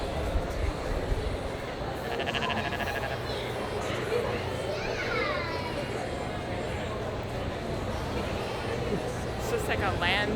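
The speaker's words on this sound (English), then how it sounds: "It's just like a land full of goats." Goats bleating in a crowded livestock barn at the Minnesota State Fair, scattered calls rising over a steady hum of crowd chatter and fans, with people talking nearby throughout.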